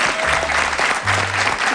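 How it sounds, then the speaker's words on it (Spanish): A studio audience applauds on a Chilean comedy television show, with dense, loud clapping that fills the whole moment, steady throughout with no voices over it. "Un aplauso para Tatín."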